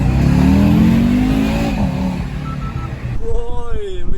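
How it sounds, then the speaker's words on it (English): An Audi S4 B6 engine revs hard and loud up close before easing off, followed by a quieter rising rev toward the end, with people talking over the engine noise. "First time driving the Audi S4."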